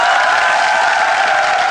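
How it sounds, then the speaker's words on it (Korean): A studio audience at a Korean quiz game show bursts into loud, sustained applause, a dense wash of clapping that fills the whole moment. "자, 응원의 박수 한번 부탁드릴게요."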